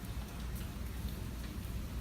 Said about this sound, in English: The rain is really starting to pick up now, and so is the wind.